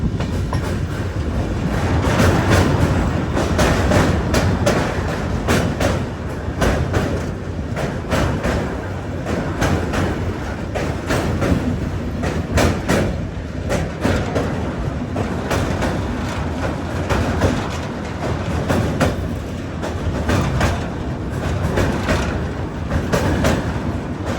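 A Bengaluru–Mangaluru weekly express rumbles along while heard from inside a general-class coach, its wheels beating a steady clickety-clack over the rails beneath a constant low roar, loud and close.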